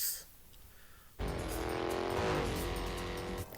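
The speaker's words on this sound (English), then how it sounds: "These old cars are going 90 miles an hour" Old racing cars roar in fast at speed, the loud engine drone and tire noise bursting in suddenly after a quieter lead-in and holding steady before easing off.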